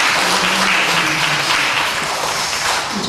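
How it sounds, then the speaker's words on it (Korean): Sustained applause from a church congregation at a Sunday service, a dense, even wash of many hands clapping at steady loudness throughout with no speech. "다시 한번 큰 박수."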